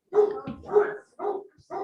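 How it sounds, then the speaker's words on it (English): A dog barks in the background of an online board meeting, giving three or four quick yappy barks in succession with nobody talking over them. "whoever has a dog barking in the background, could you go ahead and mute yourself?"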